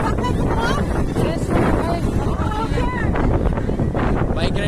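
Strong wind at Bapatla beach buffets the microphone in a loud, rumbling roar, with faint surf underneath and voices talking over it.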